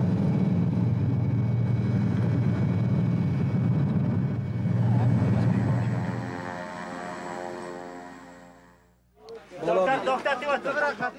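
An airplane lands in Afghanistan and bounces to a stop on a metal grate runway, a loud low engine roar that gradually fades, followed by people talking close by.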